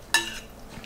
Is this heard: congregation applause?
no